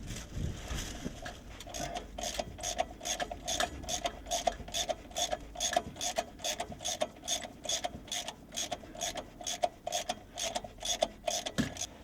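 Rapid ratcheting clicks from a wrench loosening clutch bolts on a Ferrari, a steady run of close, even ratchet strokes with brief pauses, no voices.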